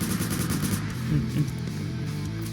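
Rapid gunshots in the Roblox zombie-survival game Last Run, a quick rattling burst of firing over steady game music and background noise, moderately loud.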